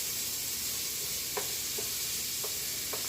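Finely diced onions sautéing in a pan, a soft, even hiss near at hand, broken by four light taps or scrapes spaced across the last half, with no one speaking.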